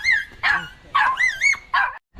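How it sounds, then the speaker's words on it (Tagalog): A dog trapped beneath a parked vehicle gives a run of high, strained yelps and whimpering whines in several bursts, close and clear with short pauses between calls. "May aso sa ilalim."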